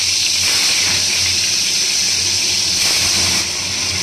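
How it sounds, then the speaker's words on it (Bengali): Hilsa fish frying lightly in a kadai, a loud, continuous close-up sizzle that hisses steadily without a break. "এবার আমি ইলিশ মাছটা একটু হালকা ভেজে নেব।"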